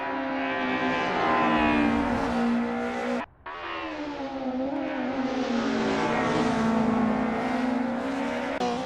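BMW M3 E30 and other DTM touring cars race at Brands Hatch in a racing video game, with loud, continuous engine roar and shifting pitch as revs rise and fall, broken by a brief dip in sound mid-race.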